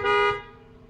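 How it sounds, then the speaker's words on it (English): A Toyota Sienna minivan horn gives one short, loud, close honk lasting under half a second, with the tone cutting off into a faint low hum. "Now I shall sound the horn."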